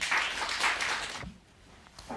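An audience at a hospital quality-improvement conference applauds a presenter. The applause is brief and moderately distant, then drops away into quiet room tone after about a second.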